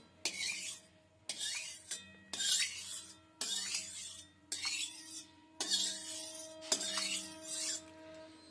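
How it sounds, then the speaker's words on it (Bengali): A spatula spreading mustard oil around a wok, seven or eight distinct metallic scraping sweeps in a steady rhythm with short pauses between, close and clear with no talk. "এবার খুন্তি দিয়ে কড়াইয়ের চারদিকে তেলটা লাগিয়ে নিচ্ছি"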